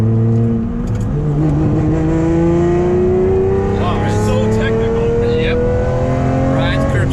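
A Lamborghini accelerates flat out on the Nürburgring. The engine note climbs loud and steady right through, and a voice talks over it.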